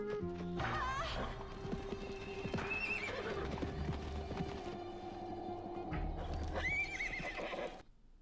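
A horse in the video game Petz Horsez 2 rears after finishing a race, giving loud, repeated whinnies with hoofbeats and game music beneath, before the sound drops away at the end.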